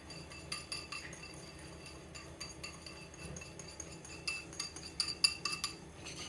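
Melted butter and cocoa stirred together in a bowl for an old-fashioned chocolate cake, with a spoon clinking and scraping against the bowl in light, irregular taps, close by and fairly quiet.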